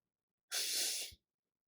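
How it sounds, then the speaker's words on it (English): A person yawns: one drawn-out breathy exhale lasting under a second, close and fairly quiet, with silence on either side. "that hurt though, but I really had to yawn"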